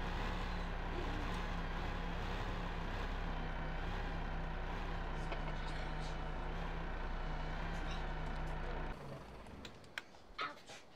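A truck in a farming video game idles with a steady low engine drone as it backs into bushes, then the engine cuts out and a few soft knocks and rustles follow.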